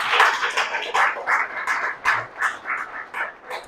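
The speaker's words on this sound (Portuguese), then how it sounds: "Um aplauso para Abraão." Audience at a religious workshop clapping together, a steady run of close, fairly loud hand claps that pulse in uneven rhythm without talk over them.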